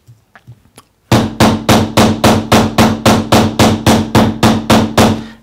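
A combination texture hammer strikes a metal sheet in a fast, even run of about fifteen loud, ringing blows, after a few soft preliminary taps.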